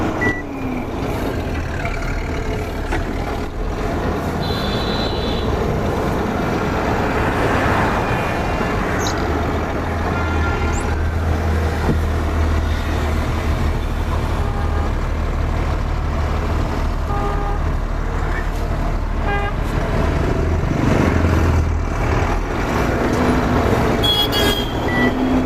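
A Tata Prima BS6 2021 truck rolls along the road, its engine droning steadily and close, with repeated beeps, brief tonal chirps and a faint hiss of air over the continuous rumble.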